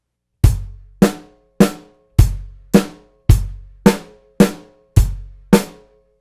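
Drum set playing a repeating beat in 5/4 time, with ten sharp, evenly spaced hits that each ring out and decay, loud and close, with no talking.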